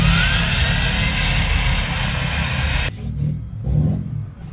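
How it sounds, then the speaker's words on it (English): A big truck engine at a Texas truck show roars loudly with a high turbo whine, then drops off abruptly into lower, uneven engine surges. "This is that big turbo sound."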